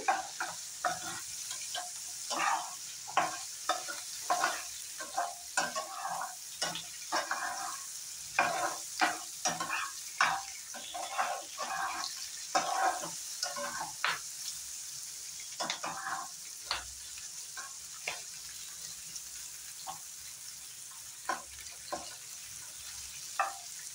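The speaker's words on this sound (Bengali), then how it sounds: "পেঁয়াজটাও একটু হালকা ফ্রাই করে নেব।" Onions fry lightly in a pan for a paner fried rice, a steady soft sizzle broken by repeated close stirring scrapes and clicks, with no one talking.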